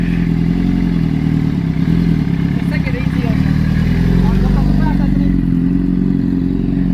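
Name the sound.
Suzuki GSX-R600 motorcycle riding away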